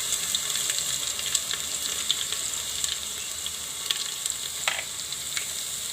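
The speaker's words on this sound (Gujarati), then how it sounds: "તો પહેલાં આપણે એમાં જીરું નાખી દેવું અને લસણ નાખી દેવું." Cumin seeds and garlic hit hot oil in a home kitchen pan, giving a steady close hiss of frying with a few sharp crackles and pops scattered through.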